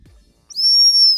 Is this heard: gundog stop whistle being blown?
yes